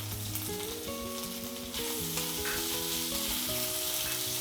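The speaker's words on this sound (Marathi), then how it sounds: "एकदम बारीक गॅसवर बघा एकसारखं परतत जायचं, असा गोल्डन कलर आला पाहिजे" Mawa (khoya), about 125 grams, roasting in hot ghee over very low gas while being stirred evenly: a steady, close sizzle with soft scraping, heard alone without talk, and a harmonic tone running underneath.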